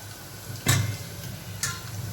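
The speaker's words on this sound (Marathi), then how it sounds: "आता इथे मी मोहरी, जिरे आणि लसूण टाकलेला आहे आणि थोडासा कांदा" Onion, mustard seeds, cumin and garlic fry in a pan for sambar, a low steady sizzle broken by two sharp bursts of crackle or spatter, close and with no talk.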